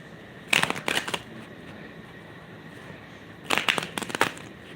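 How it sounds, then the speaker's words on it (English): Tarot cards being shuffled, two quick bursts of riffling and crisp card slaps separated by a quiet pause, close and fairly soft with no talking. "So those are three cards for your reading, Ray Foreman."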